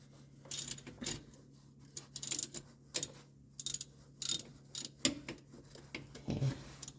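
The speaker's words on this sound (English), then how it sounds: "then we use ratchet here to take over here" A hand ratchet clicks in quick bursts as it backs out the rear differential filler plug on a 2017 Honda HR-V, with short pauses between strokes, close up and fairly quiet.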